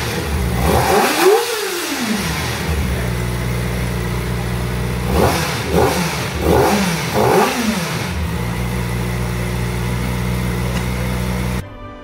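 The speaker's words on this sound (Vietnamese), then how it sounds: "đó chính là tiếng pô đặc trưng của một chiếc xe sử dụng động cơ 4 xi lanh." Kawasaki ZX-4R four-cylinder motorcycle exhaust revving loudly up close, a steady idle broken by one long blip and then three quick successive throttle revs that rise and fall before settling back.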